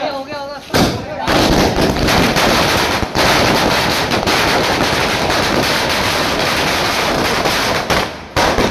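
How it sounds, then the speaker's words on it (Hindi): Firecrackers burst in a dense, rapid, continuous crackle at a political celebration in Chhindwara, loud and close, with brief gaps near the start and end and faint voices beneath. "शिवसेना जिला अध्यक्ष के साथ युवाओं ने जमकर आतिशबाजी की"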